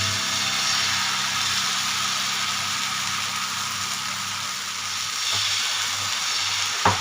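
Thin batter of wheat flour and rava poured onto a hot pan for dhirde, sizzling in a loud, steady, close hiss that runs unbroken, with a faint tap near the end and no one speaking.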